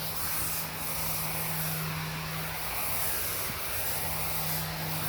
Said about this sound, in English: this is pressure washing a screened in porch with the pressure washer turned off